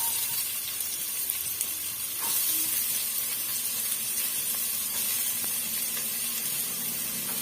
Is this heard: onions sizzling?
yes